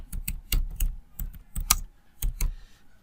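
Someone types on a computer keyboard, with close, crisp keystrokes landing in quick irregular bursts and short pauses between words.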